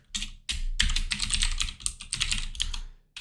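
Rapid keystrokes on a computer keyboard enter an email address during a Fiverr account sign-up, a close, dense clatter of taps in bursts broken by brief pauses.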